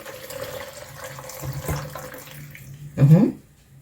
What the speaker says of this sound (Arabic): هننزل بلتر الحليب زي ما انتم شايفين كده